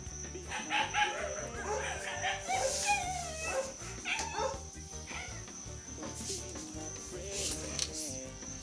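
Dogs bark, yip and whimper in a run of short calls at moderate distance, some high and whiny, with a person talking now and then.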